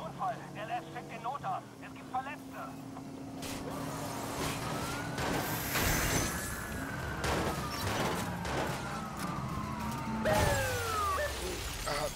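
A car crash in the game Watch Dogs brings loud smashing and shattering impacts amid engine noise and police sirens, with someone talking throughout.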